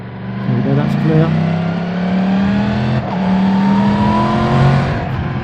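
A brand-new 2024 Yamaha MT-10 SP motorcycle engine revs hard while riding, its pitch climbing and falling through gear changes, loud and close with steady wind rush throughout.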